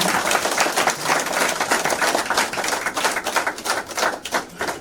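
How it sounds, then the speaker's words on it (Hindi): Loud, dense clapping fills a hall at a Pujara Dream Life leadership event in Mount Abu, a sustained crowd round of applause with busy rapid hand claps and no talk. "तो फिर से एक बार हम सबके लिए जोरदार ताली हो जाए"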